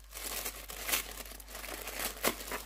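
A paper parcel envelope is ripped open by hand. Close crinkling and crumpling runs throughout, with a few sharper tearing bursts, and no talking.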